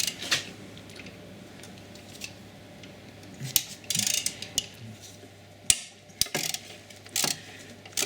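A ratchet socket wrench with extension bars loosens the hex size 6 bolts on the front drive shaft of an Audi A6 C5, giving scattered close ratcheting clicks and metallic ticks over a low steady hum, with no talking.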